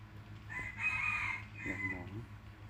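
A young junglefowl rooster crows once nearby, a strained rising call that breaks off, over a low steady background hum.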